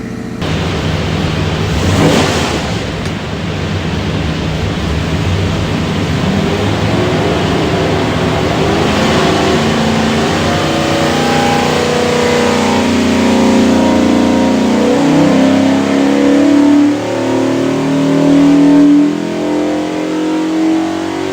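A Holley EFI-equipped 347 Ford engine on a dyno revs hard and loud through a sustained test pull, its roar climbing in pitch over about twenty seconds with no talk.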